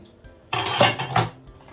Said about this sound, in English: Let us check on our pot now and see if we can add the remainder of our ingredients.